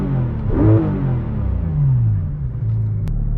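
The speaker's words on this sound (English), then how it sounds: "If you hold both of the paddles down at the same time, it engages the clutch, which lets you rev it as high as you want." A 2019 Porsche 911 GT3 RS 991.2 revved with the clutch held in by both paddles: the engine blips up sharply, drops back, swells again, then settles to a loud close idle, with a brief click near the end.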